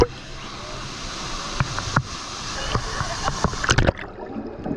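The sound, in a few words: waves flowing in a water park wave pool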